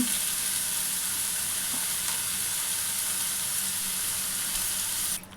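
Chopped onions frying in a bowl-shaped pan for an Andhra-style egg curry, a steady close hiss and crackle that holds evenly throughout and cuts off at the very end.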